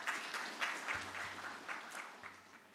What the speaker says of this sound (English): A clap for them.